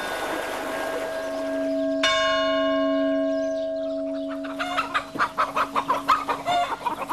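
Roosters on a farm in Lozère that breeds them for fly-fishing feathers. A bell rings out sustained tones over distant crowing, then hens cluck in a rapid, close chorus.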